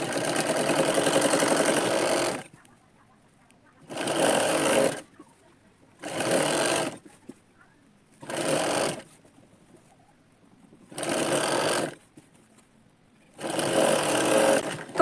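A sewing machine stitches the hem of a katori blouse in five or six separate bursts of steady whirring, each a second or two long, divided by near-silent pauses.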